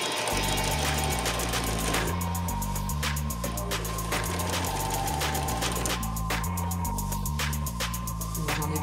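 A sewing machine stitches a costume seam in a steady, fast mechanical chatter with regular needle clicks, loud and close, running continuously with a brief change in pace midway.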